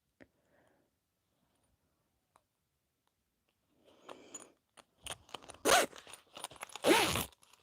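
Metal zipper pulls for a Rosie baby sling clicking and rattling as they are handled during sewing, quiet for several seconds before a run of close, loud jingling scrapes and clinks.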